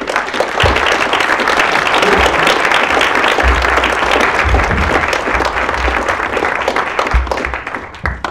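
An audience at a higher-education panel event applauds the panellists, a loud, sustained roll of many hands clapping that fades slightly toward the end.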